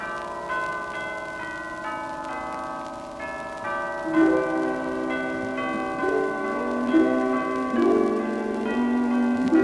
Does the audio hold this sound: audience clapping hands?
no